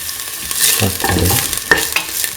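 Garlic and shallots sauté in a pan for a bean stew, sizzling loudly and close as they are stirred, with a few scraping clinks.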